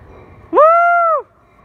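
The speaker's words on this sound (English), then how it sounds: "There's the ALP 46 with the EMD steel bell." An NJ Transit Adtranz ALP-46 electric locomotive sounds one loud, close, steady tone with a quick rising onset, lasting under a second before cutting off into quiet background.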